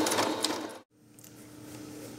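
A sewing machine stitching a lining into a crochet purse: a dense, steady mechanical whir that cuts out briefly, then starts again and runs evenly to the end.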